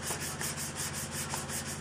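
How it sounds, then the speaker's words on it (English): Hand sanding of primer and guide coat on car body metal gives a close, rhythmic rasp, with repeated strokes in a steady back-and-forth pattern and no voices. "Start sanding this down."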